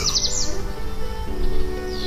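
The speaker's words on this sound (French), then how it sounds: "Même les oiseaux le sentent. Écoute-les chanter." Several birds chirp and tweet outdoors in short, high, quick bursts over a steady broad background hiss, fairly faint and without any talking.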